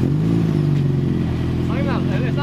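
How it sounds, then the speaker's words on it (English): Scion FR-S running with its muffler deleted and no tailpipe, a loud close droning exhaust idle with a rough low burble throughout, and people talking over it near the end. "Their muffler delete is out, and now there's obviously no tailpipe."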